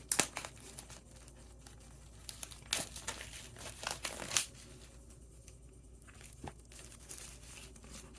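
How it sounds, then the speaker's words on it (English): Plastic cover being peeled off a smartwatch box during an unboxing, a series of close crinkling and tearing rustles in irregular bursts, louder at first and then fading to faint handling. "let's remove the plastic cover here"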